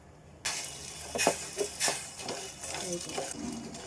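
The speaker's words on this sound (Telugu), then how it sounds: "బెల్లం కరిగే వరకు అలా తిప్పుకుంటూ ఉండాలి." Moong dal payasam with jaggery is stirred in a pot: a faint hiss with soft scraping and a few light clinks of the spoon against the metal, irregular and close.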